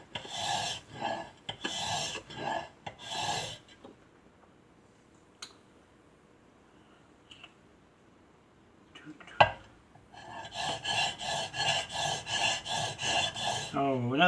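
A chisel is rubbed back and forth on sandpaper for sharpening, producing loud rhythmic rasping strokes close by, a burst of several strokes, a quiet gap with a knock, then another steady run of strokes.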